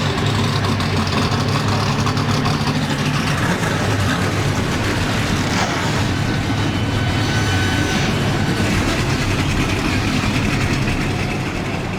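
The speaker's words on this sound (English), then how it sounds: "Drivers, start your engines!" Race car engines roar in the Papyrus motorsport racing game, a loud, dense, continuous engine drone that holds steady throughout with no pauses.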